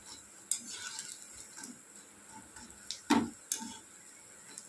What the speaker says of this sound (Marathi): असे छान लाल होईपर्यंत तळून द्यायचे.